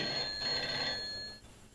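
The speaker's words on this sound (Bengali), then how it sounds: "আর ফোন আসার সময় পেল না, দূর।" A cartoon telephone rings with a bright electronic trill that repeats for about a second and a quarter before stopping, fairly quiet and heard alone without speech.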